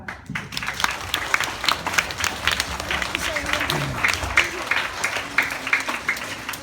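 Applause at a school assembly for the Polish Constitution of 3 May anniversary, a crowd of pupils clapping in a steady patter with some children's voices over it, moderately loud in a hall.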